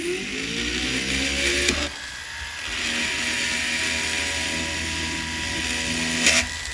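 Rotary tool fitted with a small ball burr grinding into metal tubing while making jewelry hinges, a steady high whine with a grinding edge that shifts pitch, briefly pausing near the two-second mark before resuming close up.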